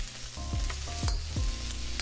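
Vegetables stir-frying in a hot pan, a steady close sizzle with a few sharp scraping stirs as the pieces are tossed, no voices.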